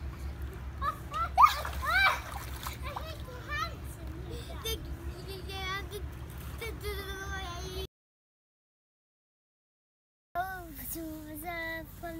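Water splashes and sloshes repeatedly as children bathe outdoors, with lively kids' voices throughout and a brief silent gap midway.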